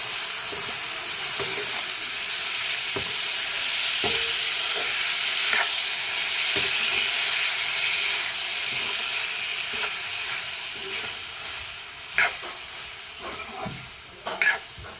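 Cooked cauliflower being stirred into a curry in a pan, with a broad steady sizzle and steam hiss, intermittent soft scrapes and a few sharper clatters near the end, and no talking.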